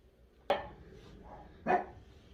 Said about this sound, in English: Excuse the dog barks in the bathroom.